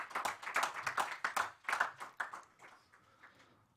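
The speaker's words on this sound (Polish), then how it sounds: "Brawa." Applause at a political party's press conference in Poland, a dense burst of clapping that thins out and fades over a few seconds, with no speech over it.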